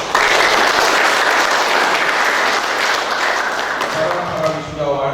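Graduation ceremony crowd applauds the regent with steady, dense clapping that holds for several seconds before thinning at the end.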